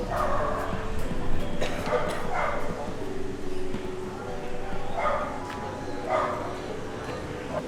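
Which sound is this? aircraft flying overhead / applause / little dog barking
little dog barking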